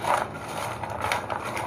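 Crispy fried pasta kurkure being tossed in masala, giving a continuous dense crunching and rustling with small sharper crackles, close and fairly loud with no talk.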